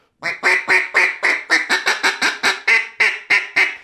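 Short greeter calls blown on a duck call, a quick series of about fourteen clipped, nasal quacks in steady rhythm, loud and close with no talking.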